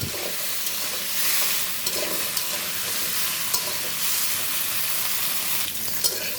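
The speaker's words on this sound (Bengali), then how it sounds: "দিয়ে দিব সবজিগুলো সবজিগুলো ভেজে নিব সবজির ভিতরে আছে আলু মূলা শিম" Potato, radish and beans fry with cumin seeds in a pan, giving a continuous close sizzle with stirring scrapes and small bursts of crackle.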